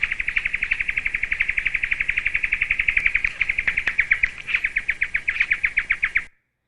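A bird mimics a kookaburra and a Lewin's honeyeater, producing a loud, close, fast string of evenly repeated chirping notes that runs steadily for about six seconds before stopping abruptly.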